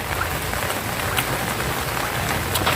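Steady rain falls across an open rice paddy, a dense, even hiss that holds at the same level from start to finish, with no voices.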